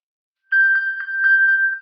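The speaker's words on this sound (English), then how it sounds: "If you ever misplace your iPhone, here is the sound that it makes so that you can find it." An iPhone's find-my-phone alert, triggered remotely from an Apple Watch Series 3, rings as a quick run of bright electronic chirping pings, about six pulses in steady rhythm, clear and alone.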